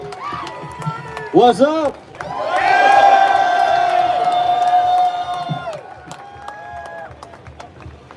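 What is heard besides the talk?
crowd of Oakland fans cheering at FanFest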